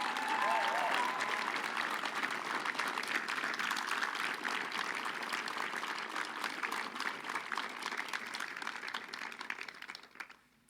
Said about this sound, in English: they deserve a special round of applause for everything they've done